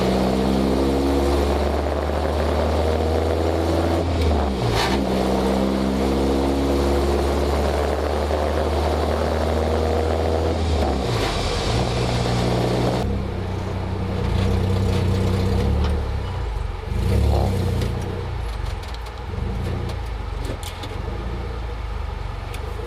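Volvo 240 car engine cranks and starts, then pulls away, a loud steady droning run with rising and falling tones as it shifts through gears and settles into cruising.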